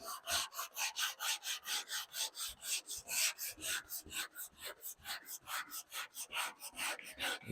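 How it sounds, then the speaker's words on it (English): A sanding block worked by hand over the bodywork of a 1970 Dodge Challenger with a 100 grit block, down toward bare metal: rapid, regular back-and-forth rasping strokes, about three per second, close and fairly quiet. "we're going to keep sanding it until we hit bare metal"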